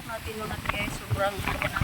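Strong wind buffets a microphone outdoors in Japan near a bridge, a steady rushing roar under a voice speaking throughout.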